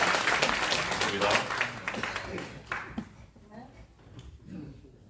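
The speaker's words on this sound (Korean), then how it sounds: "큰 박수 부탁드려요." An audience at a Korean seminar applauds to welcome a film director, clapping loud at first and then thinning and fading out, with a host speaking over and after it.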